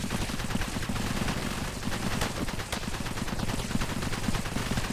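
Dense, continuous gunfire from the shooter game Cepheus Protocol in pandemic mode, rapid shots overlapping at a steady loud level for the whole stretch, with a few sharper cracks standing out and no speech.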